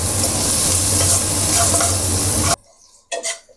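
Onions sizzle loudly in a pan for keema biryani, a dense, continuous frying hiss that cuts off suddenly, followed by a couple of faint stirring clinks.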